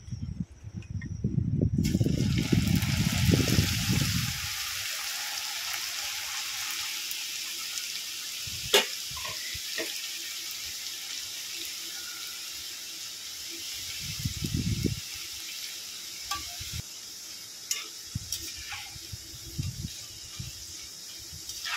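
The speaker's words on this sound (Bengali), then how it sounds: "এটাকে আমি তেলে ভেজে নেব।" Potato chips frying in hot oil, a steady close hiss and sizzle throughout, with a louder rushing burst at the start and a few bumps and clatters as the pan is handled.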